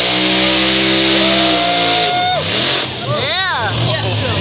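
The Grave Digger monster truck on 66-inch tires does a big smoky burnout, its engine roaring loud and steady with revving pitch sweeps, close up, with a voice talking over it.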